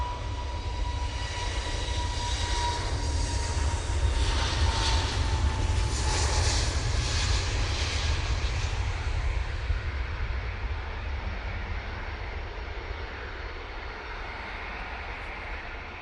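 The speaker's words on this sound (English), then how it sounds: "Next out, the beautiful KLM A321 Neo going off to Amsterdam Schiphol." A KLM Airbus A321neo departs Manchester Airport with a loud, continuous jet engine roar and deep rumble, whining tones rising briefly before the sound slowly fades toward the end.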